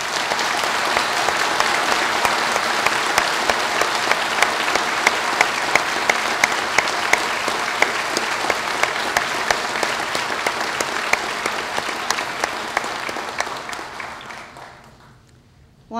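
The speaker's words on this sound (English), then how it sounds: "join me in a very warm round of applause for you" A large assembly applauds graduates at a spring university convocation, a dense, steady wash of many hands clapping for about fourteen seconds before fading out near the end.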